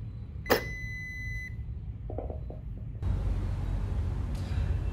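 A Toshiba RC-VSR induction rice cooker gives a single sharp electronic beep as its cancel button is pressed, followed by a few faint clicks over a steady low background hum.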